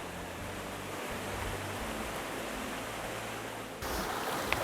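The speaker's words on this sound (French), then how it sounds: "Eh oui, il y a un petit cours d'eau." Steady hiss of a small stream flowing in the Vosges woods near Lac de Xon, a soft continuous rush with a low hum early on and a brief click near the end.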